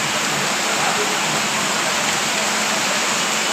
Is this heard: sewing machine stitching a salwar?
no